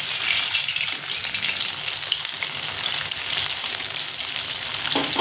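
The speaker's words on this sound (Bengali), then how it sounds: "এইভাবে উল্টে পাল্টে লাল করে ভেজে নেব" Chicken pieces for crispy chicken fry in hot oil and are turned over, giving a loud, steady, even sizzle that fills the whole stretch without talk.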